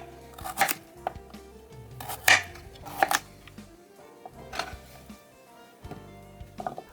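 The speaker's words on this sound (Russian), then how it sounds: "Вырежу несколько кубиков из морковки." Knife chopping cubes from a carrot on a cutting board in a home kitchen, several distinct sharp cuts spaced irregularly with clinks and handling noise between, close and moderately loud.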